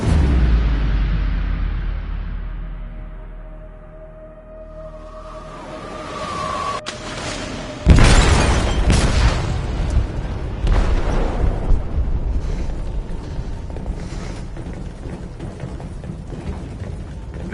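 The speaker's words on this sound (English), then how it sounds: "detonated an explosive in the hold" An explosive detonates in the hold of a ship in Detroit: Become Human, a sudden heavy boom that follows a fading rumble and leaves a long, loud wash of crashing debris and metal noise.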